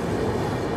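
Inside the Puri–Sealdah Duronto first-class cabin as the train enters Bhubaneswar Junction, a steady rumble of wheels and carriage noise fills a brief moment, close and continuous, with no talking.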